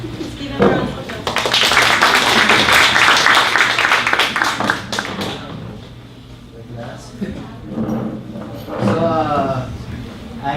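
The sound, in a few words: audience applause welcoming a speaker at a meetup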